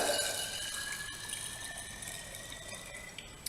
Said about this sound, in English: If I can just put it under some running water, just pour in the water,